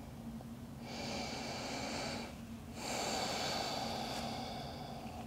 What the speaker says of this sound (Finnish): Aina sisään ja ulos hengitys on yksi kierros.